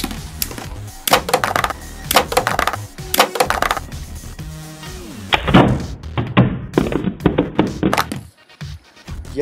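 Lego Beyblades launch and clash in an arena, giving a rapid series of sharp plastic clacks and thuds in irregular bursts, some clustered, close and loud, ending in quieter scattered taps.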